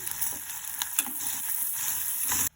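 A large onion and tomato with salt sautéing in a pan, a continuous hissing sizzle with a few light clicks and stirring scrapes, moderately quiet and close, ending abruptly with no talking.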